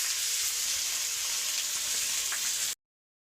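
Onions and peanuts fry in hot oil for a potato fry, giving a steady, close, even sizzle and crackle throughout, with no talk, before it cuts off abruptly near the end.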